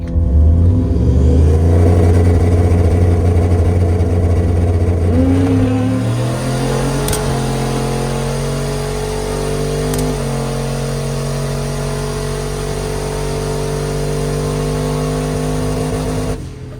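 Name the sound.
turbocharged Dodge Dakota RT truck accelerating on drag strip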